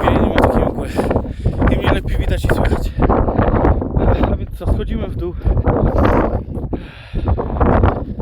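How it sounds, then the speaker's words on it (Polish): Strong, freezing cold wind gusts on Babia Góra mountain buffet the microphone in loud, rough rumbles, and a person talks underneath the blustery noise. "piękny, mroźny wiatr. Tak mroźny, że aż ręce mi zamarzły."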